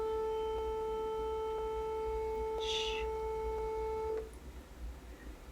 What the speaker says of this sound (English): You will have heard the phone at the higher pitch